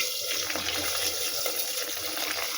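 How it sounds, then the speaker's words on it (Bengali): Hot water pours steadily into lentil dal seasoned with turmeric and salt, a continuous close splashing stream with no talk. "এবারে এর মধ্যে আমি গরম জল দেবো, কোনো ঠান্ডা জল আমি দেবো না"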